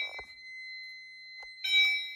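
A fire alarm panel sounds a steady electronic tone after a rate-of-rise heat detector is tested in a home demo system, with a couple of short clicks and a brief second alarm burst near the end.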